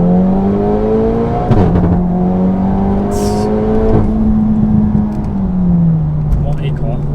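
A 600 bhp stage 3 VW Golf R accelerating hard in first gear, its engine droning loudly and rising in pitch, with brief shift breaks and voices talking over it inside the cabin.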